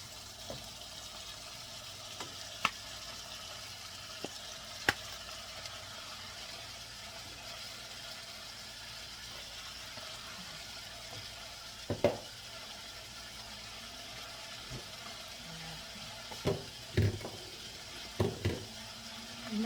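Rice and beans stir-fry in a pan, a faint, quiet sizzle under scattered sharp clinks and scrapes of a utensil against the pan, clustered toward the end, with no talk.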